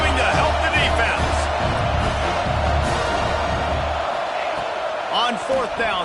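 Stadium crowd noise in the NCAA 26 college football video game, a broad roar swelling behind a fourth-down play while a commentator talks over it.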